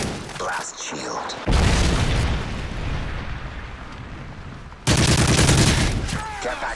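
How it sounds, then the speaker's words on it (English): A Predator missile strike in Call of Duty: two heavy explosive booms with rolling rumble, set among scattered gunfire and battle noise, with a voice speaking partway through. "Friendly Predator missile inbound."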